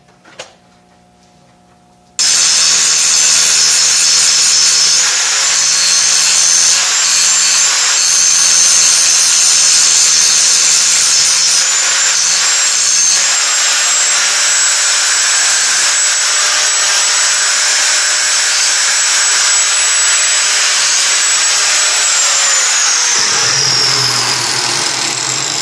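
Power grinder prepping a weld on a mini motorbike frame, starting abruptly after a brief quiet moment and then whining loudly and steadily for over twenty seconds before it spins down.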